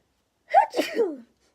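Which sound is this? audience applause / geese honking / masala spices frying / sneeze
sneeze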